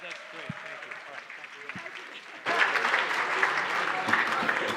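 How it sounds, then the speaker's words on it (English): A benefit gala audience breaks into warm applause to welcome the board chair to the stage; a voice speaks first, then dense clapping swells in and continues. "Please give a warm round of applause, Julie Commons."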